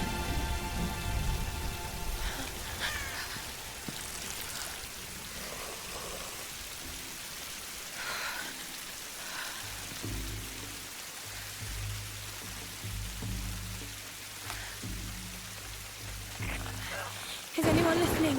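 Rain in the video game Tomb Raider (2013), falling as a steady hiss with scattered droplet patter, fairly close and constant, while a low tonal drone enters partway through.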